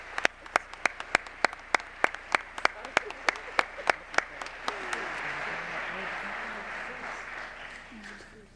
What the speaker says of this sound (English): Please give our colleagues from this grant category a warm round of applause